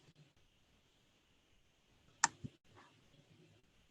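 A computer mouse gives two quick, sharp clicks in close succession, heard up close against a near-silent room.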